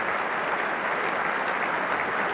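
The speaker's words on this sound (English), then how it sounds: "Muted applause, I suspect, from the bowler." Muted applause from a crowd at a Test cricket match at Lord's, England v India, a steady broad patter of distant clapping that holds evenly throughout with no voices.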